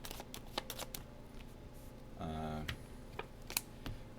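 Cards are handled and drawn during a solo game of Super Hot the Card Game, with quiet close taps and flicks and a short riffle-like burst in the middle.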